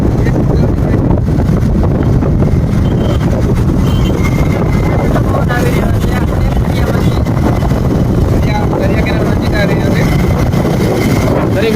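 Loud, steady sea wind at Vijali Bara near Mahuva port roaring and buffeting against the microphone, with a constant low rumble like a motor underneath.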